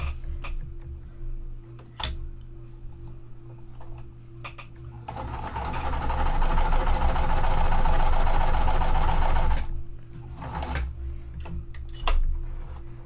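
A home sewing machine stitches cotton quilt fabric with a universal needle in a steady mechanical whir that runs about four seconds, framed by quieter motor hum and a few ticks before and after.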